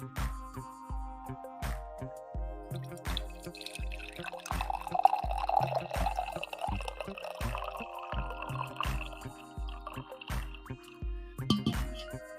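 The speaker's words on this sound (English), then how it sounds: "we need a coffee pour here" Coffee pours in a steady liquid stream over the middle stretch, set against a loud, regular thumping music beat that runs throughout.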